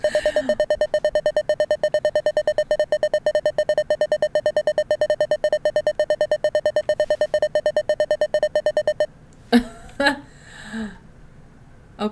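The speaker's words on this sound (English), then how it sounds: "Oh, the beeping's giving me a headache." In the horror video game Network, an insistent electronic alarm beeps in a rapid, even pulse for about nine seconds before cutting off, after which someone speaks briefly.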